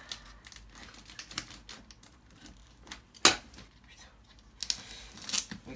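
Scissors snipping and crunching through packing tape while unboxing an electric scooter, with a sharp tearing snap partway through and rustling packaging, some close handling noises throughout.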